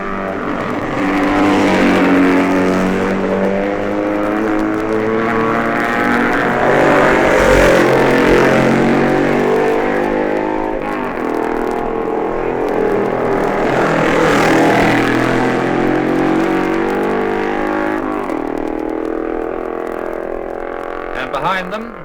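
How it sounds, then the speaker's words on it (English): Racing motorcycles, including a BMW and Nortons, at the 1958 Senior TT race near Ballacrane: loud engines rise and fade as the bikes pass close by, with someone narrating over them throughout. "Duke on the BMW had caught the Nortons of John Anderson and Hereward Boyce"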